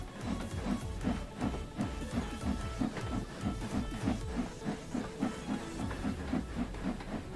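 Steam locomotive, an 8F in the Train Sim World game, gives off a steady loud hiss with a rapid rhythmic chuffing pulse running throughout, and no voices.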